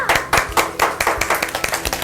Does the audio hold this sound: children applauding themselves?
yes